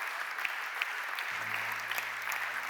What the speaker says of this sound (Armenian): Եկեք ծափարենք,